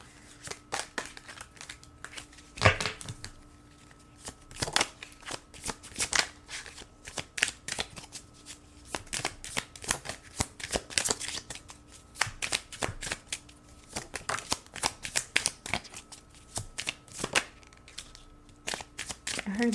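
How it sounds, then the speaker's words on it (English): A deck of tarot cards shuffled by hand again and again, giving a fast run of crisp riffling snaps and flutters in uneven bursts, close and fairly loud, with no talking over it. "I'm going to now shuffle another deck"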